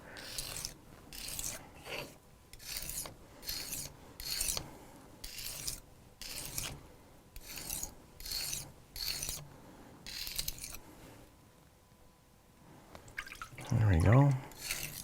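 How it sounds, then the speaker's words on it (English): A blade edge being deburred during sharpening gives rhythmic rasping strokes, about a dozen close scrapes with short pauses between them. The strokes stop and a louder clunk follows near the end. "I'll start removing the burr a little early because it's a really large and irregular burr."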